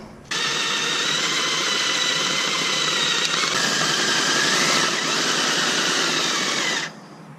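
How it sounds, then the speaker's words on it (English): A power drill whirs loudly and continuously for several seconds, grinding steadily through a Mustang's oil pan before cutting off abruptly. "now we're finally drilling and tapping it"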